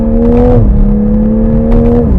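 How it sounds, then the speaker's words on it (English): Exhaust of a 2021 Toyota Supra with 382 horsepower burbles loudly and close in first gear, a steady drone that dips in pitch twice as the revs shift. "First gear with those burbles."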